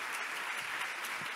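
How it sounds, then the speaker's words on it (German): Audience applause fills a hall at the opening of a multi-day assembly on antiracist struggles, a dense, steady clatter of many hands at moderate level with no voices over it. "Schönes Applaus, ist sehr verdient für das Team."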